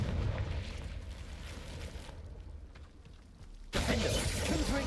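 A Confringo blast spell fires in Hogwarts Legacy, a rumbling, shattering explosion that fades, then a second loud burst erupts near the end.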